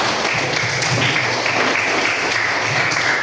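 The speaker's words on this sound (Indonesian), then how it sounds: "Tepuk tangan semua" A class of students in a computer lesson applauds together, a steady dense patter of many hands clapping at moderate loudness throughout, with no voices standing out.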